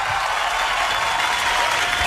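A studio audience on a morning radio quiz show applauds a correct answer with steady, dense clapping that holds at an even level throughout.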